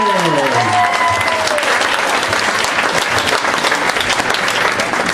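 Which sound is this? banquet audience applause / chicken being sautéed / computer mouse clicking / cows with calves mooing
banquet audience applause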